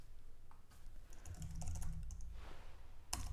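Fingers type on a computer keyboard while coding a ReactJS football app, a close, fairly quiet run of irregular key clicks with a short burst near the end, no talking.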